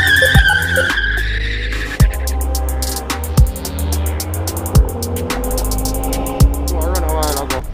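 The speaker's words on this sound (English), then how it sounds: "I get all the power wheel spin" A drag-racing car spins its wheels with loud tire squeal and a roaring engine at a Vernamfield race. The sound is close and sustained, with the engine note rising and dropping at regular gear changes.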